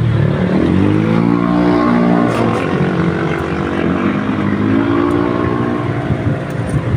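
A washing machine motor runs during wiring tests, giving a loud, continuous droning hum with a slight wavering pitch that rises and sags over several seconds.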